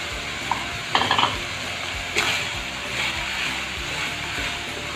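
Garlic ginger paste and spices sizzle in a pan for a keema paratha filling, with a steady hiss and a few scraping, clinking stirs of a spoon against the metal, close up and without talking.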